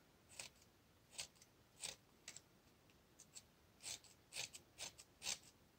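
Scissors snipping a fine fringe into coffee-filter paper for a red poppy flower, a series of crisp close cuts in irregular clusters, about ten snips with short pauses between.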